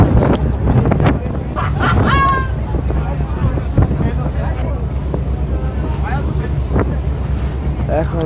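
Strong wind buffets a boat at sea, with water spraying over the deck during a crossing toward Thailand; a constant loud roar of wind noise and surf runs throughout, with a person talking over it.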